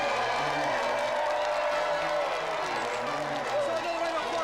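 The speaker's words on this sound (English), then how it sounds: "So another round of applause for our two final contestants, Amar and Cecil!" A studio audience applauds and cheers for the final two contestants of the 1996 GamesMaster TV game show, a dense, steady wash of clapping over music, holding at full strength throughout.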